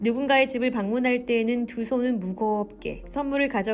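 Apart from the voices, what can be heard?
None of the usual background noises is heard.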